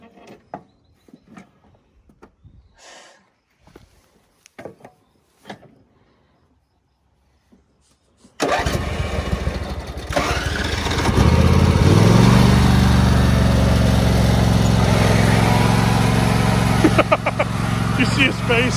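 After a stretch of quiet with scattered talk and small noises, a riding lawn mower engine catches abruptly and runs loud and steady up close, its revs rising into a constant drone while people keep talking.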